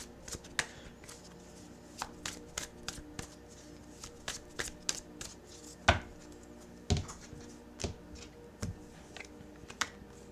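Tarot cards being shuffled by hand, a steady run of crisp riffling snaps and flicks at close range, fairly quiet overall with no talking.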